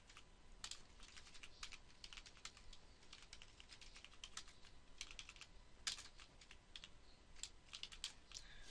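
Steady typing on a computer keyboard while entering label text into a document, fast irregular key clicks close by and fairly quiet, with no talking.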